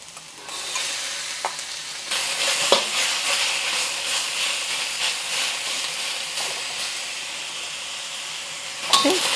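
Pork hits a hot pan beside garlic and other ingredients pushed aside, sizzling steadily and loudly with a few sharp scrapes and clinks of a utensil stirring, no talking.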